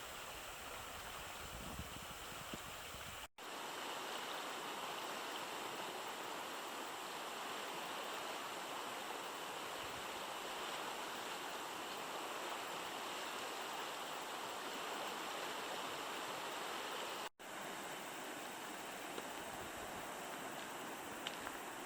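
The North Saskatchewan River on the Kootenay Plains rushes in a steady, continuous roar of flowing water that stays constant throughout, with no voices.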